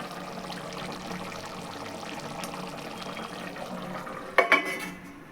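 Water poured into a rice cooker pot of chicken liver for biryani, a soft trickling wash followed by a couple of sharp metallic clanks of the pot near the end.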